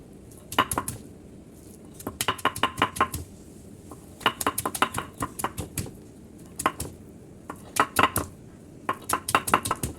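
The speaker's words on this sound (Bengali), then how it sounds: "এখন পেঁয়াজ দিয়ে দিব পেঁয়াজ দিয়ে থেতো করে নেব" Onion being pounded and crushed in a village kitchen, with bursts of sharp clattering knocks in quick clusters separated by short pauses, close and fairly loud, no speech.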